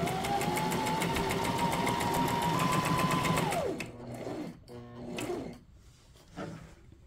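A Brother SM2700 domestic sewing machine runs a fast, steady stitching whir for several seconds, then winds down and stops, followed by a few short bursts of stitching close by.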